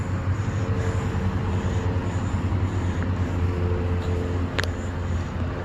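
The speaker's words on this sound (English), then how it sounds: "Oh, an airplane." A steady, fairly distant airplane drone passes over a cemetery at Fort Ethan Allen in Colchester, Vermont, a continuous low rumble with no talking.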